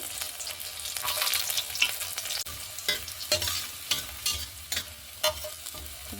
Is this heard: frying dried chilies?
yes